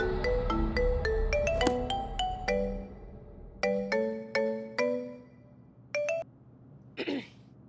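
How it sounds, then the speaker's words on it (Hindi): A phone's electronic ringtone melody plays in quick repeated bursts of tones, fairly close and clear, then pauses and a short final burst sounds. "एक ही रिंग में फोन उठा लिया तूने"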